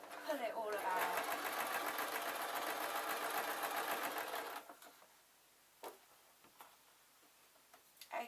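Sewing machine stitching fleece for a jester slipper, running in a steady fast mechanical whir for about four seconds, then stopping, followed by a few faint clicks and handling sounds; a person talks over it.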